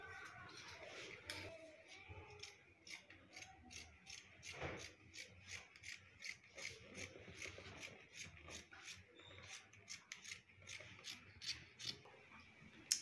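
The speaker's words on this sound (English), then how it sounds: "So the next thing is for me to cut it out." Scissors cutting fabric for an overall dress, a repeated series of faint, crisp snipping clicks in a fairly steady rhythm, close and quiet throughout.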